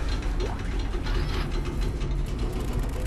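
A mechanical door mechanism in the video game Dead Space 2 grinds and ratchets steadily with a dense metallic clatter over a low rumble, loud and continuous without pause.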